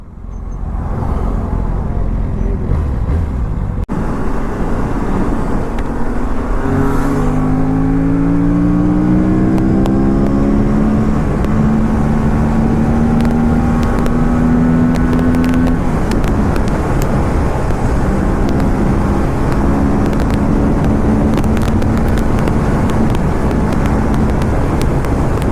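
A Kawasaki ZX-6R or Aprilia RS457 sport motorcycle on a fast ride, its engine droning steadily and rising in pitch through the gears under constant loud wind rush, with no voices.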